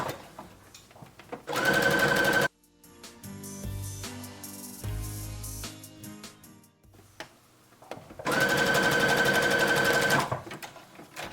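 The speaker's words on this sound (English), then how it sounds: "And then I'm gonna go over to my serger and really get it on there." A serger overlock sewing machine stitches elastic into a gathered cap sleeve in two loud, close, steady whirring runs of about two seconds each, with quieter fabric handling and clicks between them.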